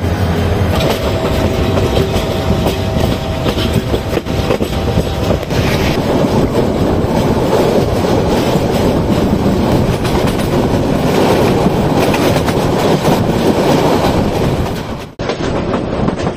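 Kishorganj Express passenger train rolls slowly over a rough, poorly maintained section of track, heard from inside as a loud, continuous rumble with rhythmic clatter that drops off sharply near the end.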